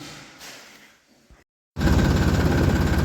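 A tractor engine cranks briefly, goes quiet, then catches and runs at a loud, steady rumbling idle close by.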